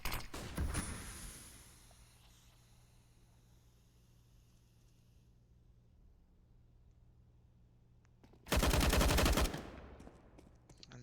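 Gunfire in CS:GO, with an AK-47 pushing onto the B site: a short burst near the start, then a quiet stretch, then a loud, dense volley of rapid shots close by.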